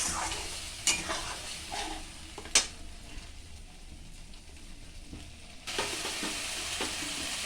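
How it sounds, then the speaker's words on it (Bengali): Tomato paste sautés in a pan with oil for potol chingri. A moderate sizzle runs under a few sharp utensil clinks and scrapes, quiets in the middle, then swells again as stirring picks up. "টমেটোটা আমি পেস্ট করে রেখেছিলাম মিক্সিতে সেটাও দিয়ে দিলাম দিয়ে এটা আমি এবার ভালো করে কষাবো"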